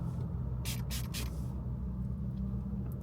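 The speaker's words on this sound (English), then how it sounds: "so I just spray this" A facial mist spray gives three quick hissing bursts in a row, close and crisp, over a low steady room hum.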